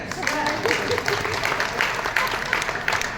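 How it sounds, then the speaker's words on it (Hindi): A dense burst of applause fills a meeting hall as an audience claps loudly and steadily for about three seconds, with a voice faintly audible beneath it. "जोरदार ताली होनी चाहिए क्या?"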